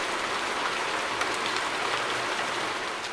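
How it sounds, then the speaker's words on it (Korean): Heavy rain pours down steadily and densely, a continuous close hiss of drops striking surfaces with no voices. "쏟아지는 빗소리."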